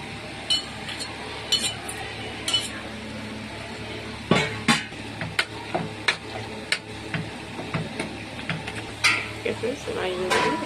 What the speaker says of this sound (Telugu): దీన్ని పోపు వేసుకుంటాం